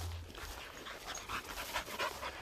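A sheepdog pants steadily and quickly at close range at a farm livestock auction. The breaths come in an even rhythm with no talking.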